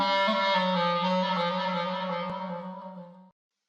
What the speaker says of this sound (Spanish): uno de los ejemplos más representativos es el clarinete, que suena así.